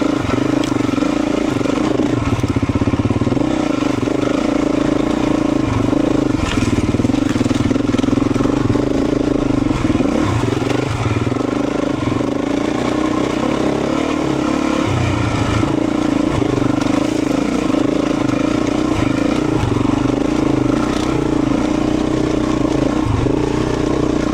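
A Beta 350 RE dirt bike ridden along forested single track gives a continuous, close engine drone with shifting revs and rattling clatter over rough ground, loud and unbroken throughout.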